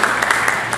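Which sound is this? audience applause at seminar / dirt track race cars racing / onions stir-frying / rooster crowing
audience applause at seminar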